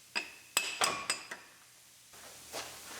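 A hammer taps a rusted drive axle out of the intermediate shaft of a Kia Sorento: about five sharp metallic strikes in quick, uneven succession, then quiet shop ambience.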